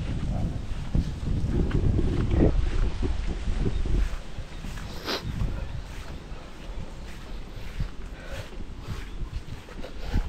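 Strong wind buffets the microphone in loud, rumbling gusts, heaviest in the first few seconds, with faint outdoor noise underneath.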